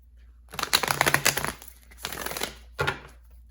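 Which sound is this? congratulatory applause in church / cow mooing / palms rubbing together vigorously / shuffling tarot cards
shuffling tarot cards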